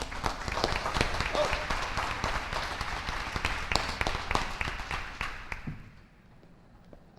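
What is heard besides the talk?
audience applause at school board meeting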